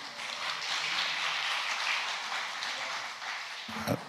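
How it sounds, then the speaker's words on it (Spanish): An audience at a congressional forum on family applauds in a steady, moderately faint wash of clapping that lasts a few seconds. "Aplauso, por favor."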